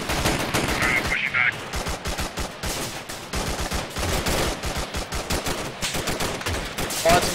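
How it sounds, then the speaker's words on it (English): Rapid bursts of gunfire in the military shooter game Arma 3, loud and dense, with rattling automatic volleys and single shots crowding one another throughout, and brief voices in the mix. "Find some covering fire for Ducky as he falls back."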